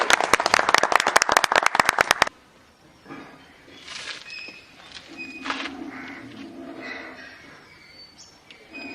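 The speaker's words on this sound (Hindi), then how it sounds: "एक बार जोरदार ताली सभी लोगों की तरफ से।" An audience applauding at a Hindi poetry gathering: loud, rapid, dense clapping for about two seconds that stops abruptly, followed by quieter scattered noises and faint voices.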